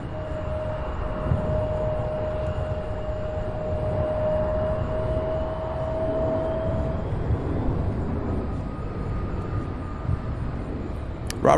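UPS cargo plane arriving from JFK at Louisville airport, a distant jet rumble with a faint steady whine that fades, then the broadband roar swells slowly, with no voices.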